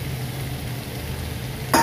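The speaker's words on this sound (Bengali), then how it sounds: "এখন আমি চিংড়ি মাছ সবগুলা দিয়ে দিলাম, আর হচ্ছে ঢেঁড়স আলু, যেহেতু সবগুলো ভাজা এই জন্য সবগুলো একসাথে দিয়ে দিলাম।" Shrimp, okra and potatoes fry together in a pan with a steady, close sizzle, and a brief louder stirring scrape comes near the end.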